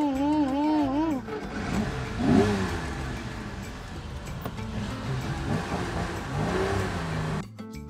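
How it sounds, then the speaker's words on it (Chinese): A 1960s Ferrari 250 GTE with a V12 engine pulls away on the road, its engine note rising and revving loudly, with people talking over it throughout. "而家經過手忙腳亂嘅一番，我哋終於把呢部法拉利開上路啦。"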